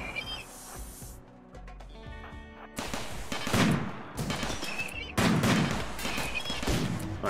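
Bursts of gunfire from RimWorld, a quieter musical lull followed by two loud dense volleys of rapid shots crackling and booming up close.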